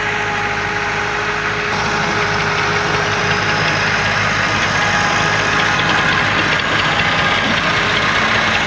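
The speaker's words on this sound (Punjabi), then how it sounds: "ਮਾਣੀ ਭਾਈ ਵੀ ਟਰੈਕਟਰ ਲੈ ਕੇ ਪਹੁੰਚਿਆ ਹੈ ਮੋੜ ਤੇ" A tractor engine drones loud and steady close by in an open field, with a low, continuous rumble and no break. No one speaks.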